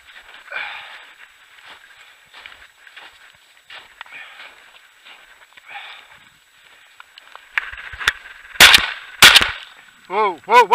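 Shotgun shots on an Idaho mountainside chukar and Hun hunt, two loud sharp blasts close together near the end, following crunching footsteps and heavy breathing outdoors, with a whistle-like call at the very end.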